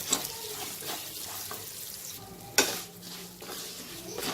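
Rice grains frying in oil in a pan for Bengali chal potol, a soft steady sizzle with light stirring scrapes and a sharper clatter near the middle, no talking.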